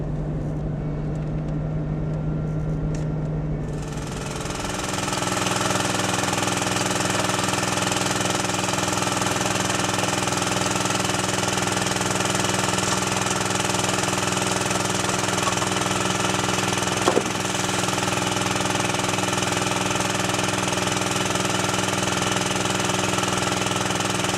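A vehicle engine in second gear runs downhill on a mountain pass, a quieter hum at first that rises after a few seconds into a steady, loud drone holding evenly, with a brief knock near the end and no talking.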